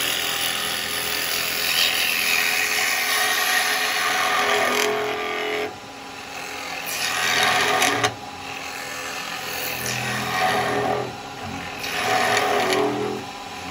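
A bowl gouge cutting a yew bowl blank on a wood lathe, making loud sustained shearing passes that sweep and fade in several repeated strokes over a steady motor whine.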